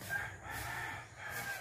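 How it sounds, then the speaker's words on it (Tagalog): Chickens clucking and a rooster crowing at a distance in rural Gabaldon, Nueva Ecija, Philippines, faint and brief, over soft outdoor background noise. "ang daming manok nagkalat"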